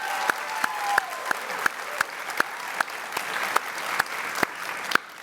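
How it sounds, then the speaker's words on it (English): An audience applauds Teacher of the Year finalists at an education awards event. The steady clapping runs throughout, with sharp louder claps standing out at a regular beat. "give them the loudest round of applause so far"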